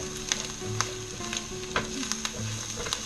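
Peppers sizzling steadily in 100% olive oil in a pot for chicken and sausage gumbo, a loud, continuous frying hiss broken by small crackles and pops.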